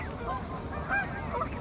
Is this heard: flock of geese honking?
yes